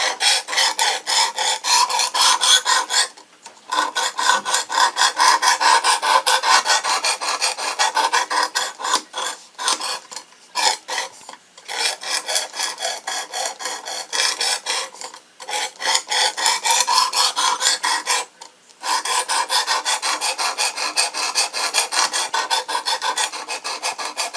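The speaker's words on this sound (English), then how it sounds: "Still on the 320 grit." A Work Sharp Precision Adjust knife sharpener's 320 grit stone rasps steadily along a blade in long, loud, close filing strokes, broken by a few short pauses between passes.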